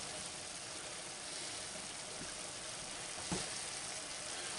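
Onions and garlic added to a pan of seafood bisque sizzle with a steady, fairly quiet hiss, a soft stir or clink briefly breaking through near the end.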